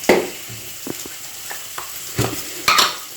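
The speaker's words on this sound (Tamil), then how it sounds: "இதை கலந்துட்டு நல்லா நம்ம வந்து வாழைக்காய் இதில் வந்து மிக்ஸ் பண்ணிடலாம்" Plantain slices being mixed by hand with salt, chili powder and turmeric powder, giving soft, wet stirring and squelching sounds with a few sharper clicks against the bowl, close and fairly quiet, no talking.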